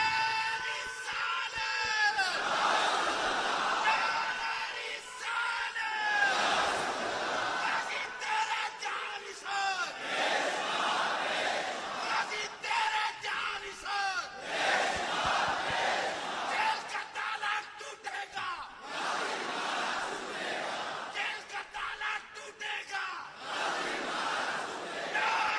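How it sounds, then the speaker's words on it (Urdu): A large assembly crowd chants a slogan in loud, repeated waves, with rhythmic surges of massed shouting about every four seconds. "اینج نعرہ لاؤ ول کر کے نعرہ"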